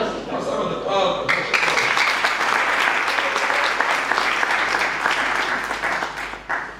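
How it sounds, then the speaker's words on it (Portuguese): Dense, steady clapping from a large audience at a political party gathering electing a first secretary, rising sharply after a brief opening and continuing loud and unbroken for several seconds, with some voices mixed in. "Uma salva de palmas."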